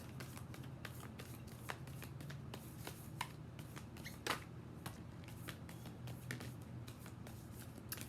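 Tarot cards being shuffled by hand, a continuous run of soft, close riffling and snapping card sounds with small sharp clicks throughout, quiet and steady with no voices.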